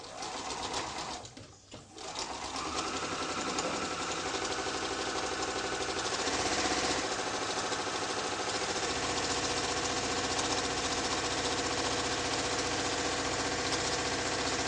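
A sewing machine runs steadily while stitching heavy curtain fabric for a cushion back. Its whirring motor hum is continuous and fairly close, with a short pause near the start.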